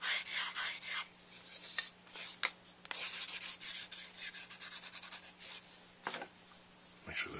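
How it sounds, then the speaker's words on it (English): A 500-grit stick sands a Florida double ring up close, in repeated quick scratchy strokes with short pauses between them. "go to my finer stick."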